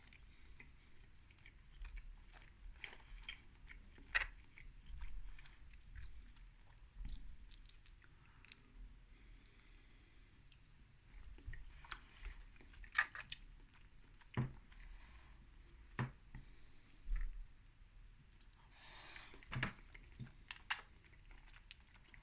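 Quiet close-up chewing of tuna pasta salad with al dente pasta and vegetables, soft wet bites and squishy mastication recurring irregularly over a long stretch, with no talking.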